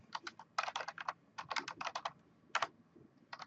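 Fingers type on a computer keyboard in bursts of quick, crisp key clicks with short pauses between, close and alone, at a cyber defense competition.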